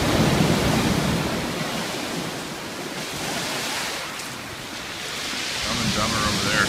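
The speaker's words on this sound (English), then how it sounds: "just to see that wave crash up there is pretty cool" Ocean surf crashes and rolls at a black sand beach on the Maui coast, a loud continuous roar of breaking waves with wind buffeting the microphone, swelling again toward the end.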